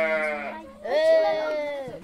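Adult dwarf goats at a livestock breeder's farm bleat in loud, close, wavering calls, one before a short pause and a longer one after, with a voice talking in the background.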